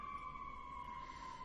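A distant emergency siren holds a steady two-tone wail outside, faint and continuous throughout, with no voices over it.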